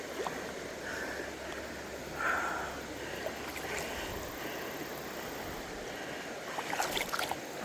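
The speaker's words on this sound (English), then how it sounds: "I hear more rushing water up ahead" Water rushes steadily toward cascades on the Estotoee outing, a constant broadband wash from a stream. It sounds moderately distant and uninterrupted, with faint scattered knocks over it.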